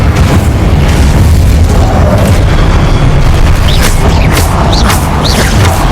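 Loud, booming blasts from Confringo and Incendio spells in the Hogwarts Legacy video game, a dense, continuous barrage of explosive bursts and crackling fire filling the whole stretch with no pauses.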